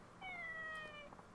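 A cat in the video game Yakuza: Dead Souls gives a single clear, drawn-out meow lasting about a second over faint background game sound.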